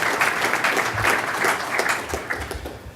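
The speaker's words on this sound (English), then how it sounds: "So why don't we just give them a little round of applause for all the hard work that they've been doing." Brief, moderately loud applause from a conference audience at a space industry panel, crackling clapping that tapers off toward the end.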